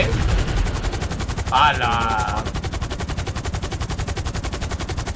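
In the GTA V video game, the orbital cannon charges and fires as a dense, rapid electric pulsing that keeps up throughout, loud and steady, with a brief exclamation from a voice partway through.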